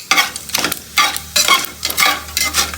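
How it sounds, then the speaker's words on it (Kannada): Whole spices, cloves and cumin, frying in a pan for egg biryani, with bursts of sizzling and stirring scrapes in an uneven rhythm, close and fairly loud. "ಎಕ್ಕೆ ಲವಂಗ ಜೀರಿಗೆ ಎಲ್ಲ ಫ್ರೈ ಆಗೈತೆ."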